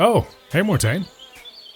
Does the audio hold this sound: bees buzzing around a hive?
yes